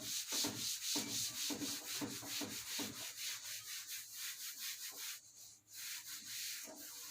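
Writing on a board is rubbed out by hand in a physics class, making a steady run of rapid scratchy rubbing strokes, close and moderately loud, with no talking.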